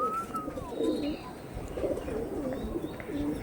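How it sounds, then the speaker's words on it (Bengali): Andhra pigeons cooing nearby in a repeated low, throaty rhythm over a soft background murmur. "জাস্ট একদম অরিজিনাল আন্দ্রা পায়রা"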